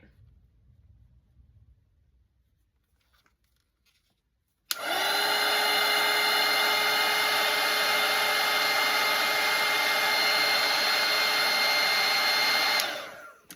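A hair dryer blows on a wet watercolour painting of a cartoon reindeer, switching on abruptly after a quiet moment and then roaring steadily and loudly with a high whine before cutting off.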